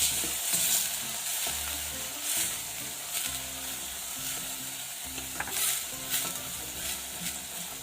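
Coconut cream satay sauce is stirred in a hot pan with onions and garlic, giving a steady sizzle. A utensil scrapes and clicks against the pan in an uneven rhythm, close up, with no talking.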